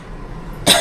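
A single sharp cough from a person with an itchy, sore throat bursts out near the end, loud and close after a stretch of quiet room noise.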